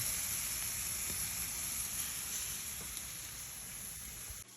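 Cowboy steaks sizzle steadily on a hot Monument gas grill, a continuous bright frying hiss at moderate level with faint crackles, no voices, cutting off abruptly at the end.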